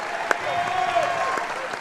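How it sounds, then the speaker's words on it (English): Basketball fans at a boys' regional high school championship applaud as an MVP award is presented, a steady wash of crowd clapping with a sharper clap or two standing out and a commentator talking over it. "The Ashland fans even applauding on this side."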